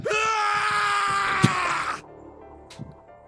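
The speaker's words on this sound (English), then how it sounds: "His scream echoed through the incineration chamber, full of rage and despair." A long, loud, anguished male scream of rage and despair from the video game 999: Nine Hours, Nine Persons, Nine Doors, echoing in an incineration chamber, then cutting off into a quiet low tail.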